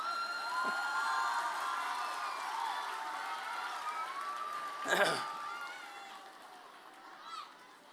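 A crowd of schoolchildren at an annual school function cheers and shouts in a dense, sustained roar, with one sharp louder burst partway through before the noise gradually fades.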